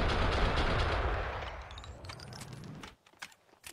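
Sustained automatic M4 rifle fire in Max Payne 2, a dense loud rattle of rapid shots that tapers off, followed by a few sharp scattered reports near the end.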